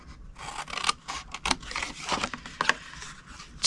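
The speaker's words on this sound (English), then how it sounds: "Go to the next 2 score lines and cut them to the second score line." Scissors snipping paper cardstock along score lines for a small craft box, a series of short crisp cuts and scrapes close by, uneven in rhythm, with no talking.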